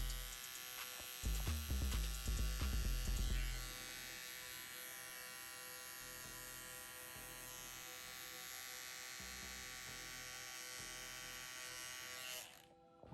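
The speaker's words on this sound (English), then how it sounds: "Now we're going to follow it up with our trimmer just to get rid of the bottom line we created with our razor." Electric hair trimmer cleaning up the neckline during a low taper haircut, a close steady buzzing hum running for most of the stretch, with louder handling bumps near the start, then cutting off at the end.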